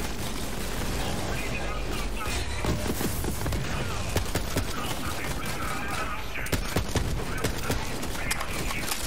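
Rifle gunfire in the Borderlands 3 video game, with dense rapid shots, explosions and combat effects filling the whole stretch at steady loudness, while voices talk over the action.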